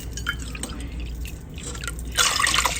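Vinegar trickles into a container for pickled watermelon rinds with small dripping splashes, then swells into a brighter, fuller pour near the end.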